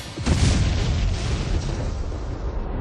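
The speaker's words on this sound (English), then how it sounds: "When the pilot and FAC finally agree on a target, it's bombs away." A heavy boom from bombs dropped by close air support aircraft, a loud deep blast that swells and then rumbles away over a few seconds.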